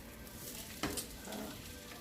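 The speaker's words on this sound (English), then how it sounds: "I also have my butter going here, and you can probably hear the sizzle along with the packaging" Butter sizzles steadily in a frying pan, a dense hiss with a brief scrape or rustle of packaging partway through, heard close and alone.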